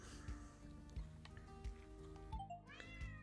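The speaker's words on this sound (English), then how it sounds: "Oh, that was a cat." A cat meows in rising, drawn-out cries over a steady low ticking and humming background, the calls fairly close and clear near the end.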